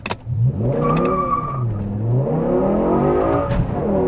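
A BMW E60 M5 with its V10 launches hard in first gear from a standstill, the engine roaring up through a rising howl and climbing again after a brief dip, loud and close.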